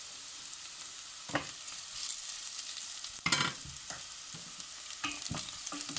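Ingredients for a Sri Lankan Jaffna-style brinjal curry are sautéed in a pan: a continuous oily sizzle broken by repeated spatula scrapes and taps at an irregular pace, close and unaccompanied by speech.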